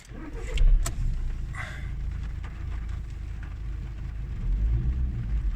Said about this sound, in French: voilà notre jolie petite clé qui normalement devrait démarrer le véhicule.